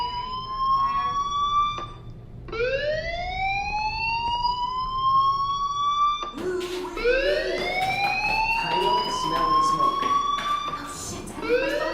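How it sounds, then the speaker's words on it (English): A school fire alarm in the Life is Strange video game wails as repeated rising siren sweeps, loud and close, with a brief gap and a second denser layer of sweeps joining partway through. "Hey, do you hear that fire alarm?"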